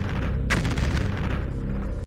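A domestically produced concrete-piercing penetrator bomb detonates after breaking through a wall: one sharp, loud blast hits at about half a second, then a low rumble carries on to the end.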